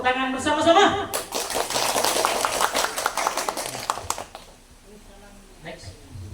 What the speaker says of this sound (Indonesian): Kita tepuk tangan bersama-sama